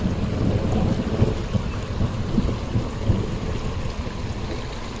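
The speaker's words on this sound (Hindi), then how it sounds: "लंबे, काफी लंबे कड़क रहे हैं।" A deep, continuous rumble of thunder rolls on without a break, heavy and steady, with a wash of rain-like noise and no talking.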